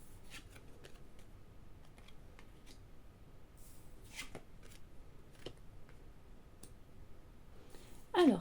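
Tarot cards being shuffled and laid out on a table, soft papery flicks and slides in scattered bursts, close and fairly quiet, ending with a louder brushing swipe.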